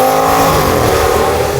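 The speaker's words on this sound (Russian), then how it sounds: "Здесь выхлоп именно благородно звучит" An Audi S8 with the 5.2 V10, running with exhaust flaps open and no catalysts or resonators, blares a loud, deep, raspy exhaust note, close up and continuous.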